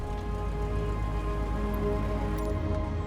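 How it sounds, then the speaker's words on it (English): Rain in Microsoft Flight Simulator 2020 patters on a Cessna during takeoff, a dense steady hiss over the aircraft's continuous low engine drone and tonal hum, loud and even throughout. "Bit of rain here."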